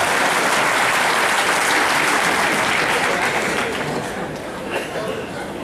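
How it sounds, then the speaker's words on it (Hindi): Crowd at a Hindi humorous poetry gathering clapping loudly and continuously with some chatter and laughter mixed in, the applause thinning slightly toward the end. "जो दो चार लोग ताली बजा रहे रहन दो"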